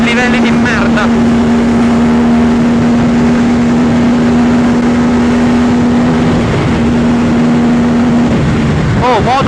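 An Aprilia RS 457 motorcycle (2024) at high speed on a race track, a loud steady engine drone with wind roar holding a single pitch, then shifting near the end, with a rider talking over it.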